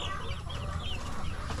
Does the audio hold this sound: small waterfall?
no